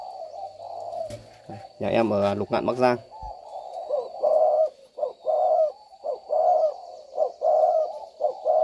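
A male spotted dove coos repeatedly close by, a series of low rhythmic phrases with short gaps, after someone speaks briefly at the start.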